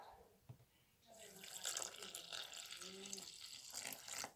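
Water runs from a kitchen tap while bread dough is being prepared with yeast, a steady close hiss and splash starting after a second and continuing to the end, with a voice speaking quietly underneath.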